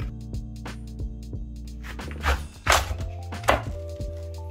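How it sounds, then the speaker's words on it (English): A sharp knife cutting down through the middle of a cabbage to remove the core for Southern fried cabbage, with repeated thunks and crunchy cuts close by over a steady low hum, growing louder toward the end. "Get you a sharp knife and then just go down in the middle of it."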